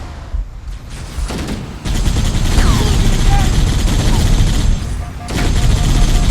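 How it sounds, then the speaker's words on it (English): Covering gunfire in Halo: Combat Evolved, dense rapid automatic bursts rattling almost without pause, loud and close, with voices shouting in the game's combat chatter. "Covering fire!"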